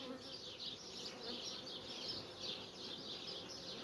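Honeybees swarming thickly around an open hive during colony work, a steady dense high buzz with wavering swells from many insects close by, no talking.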